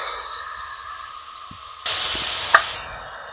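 Tamarind broth with turmeric, chili powder, coriander powder, salt and asafoetida simmering in a pot, a steady soft hiss and bubbling that grows louder partway through, with a brief clink, close and without talk.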